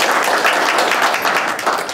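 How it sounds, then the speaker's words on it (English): Dense, steady applause from an audience at an art book tour talk fills the whole stretch, loud and continuous with no gaps. "Maybe if we just keep the applause to just a couple of claps."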